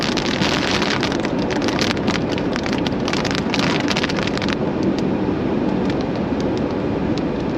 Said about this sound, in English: we're in the rain now